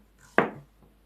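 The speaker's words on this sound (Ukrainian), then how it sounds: "Зараз нарізаю кабачки такими не дуже товстими, але й не геть тоненькими" A knife cuts a young zucchini into medium-thick rounds, giving one crisp chop against a board, close and clear, with no talking.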